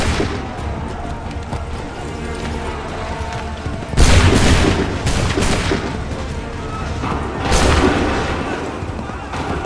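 Musket volleys fired on command in Assassin's Creed 3 crack out as two loud, sharp bursts a few seconds apart over a constant noisy battlefield background.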